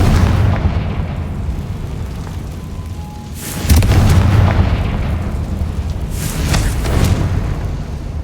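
Confringo fire spell in Hogwarts Legacy, a deep booming explosion over a rumbling game soundscape, with a second burst a few seconds later, loud and full.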